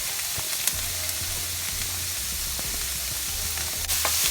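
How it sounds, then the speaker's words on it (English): Chopped white onions sizzle and fry in a hot pan for shrimp fried rice. A steady close crackle runs throughout, with occasional stirring scrapes and taps. "I'm going to add some chopped white onions."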